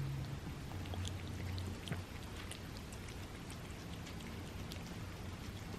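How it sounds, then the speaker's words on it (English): Water pours steadily into canned cat food, a continuous close splashing and trickling that runs for several seconds at an even level, with no voices. "just mix a whole lot of water into the food"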